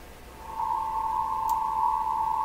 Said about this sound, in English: That sounds like it's CW here.